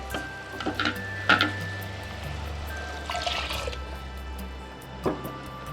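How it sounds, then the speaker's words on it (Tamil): Water is poured and stirred into a green peas curry in a pan, with soft splashing, trickling and a few light clinks, close and fairly quiet, with no talking. "இதில் தண்ணி சேர்த்துக்கலாம் தேவையான அளவு"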